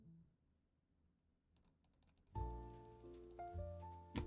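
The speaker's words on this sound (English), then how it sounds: "You can still hear my like mouse click." A few crisp mouse clicks and keyboard taps sound up close in a quiet room, with scattered light clicking before a louder cluster of clacks.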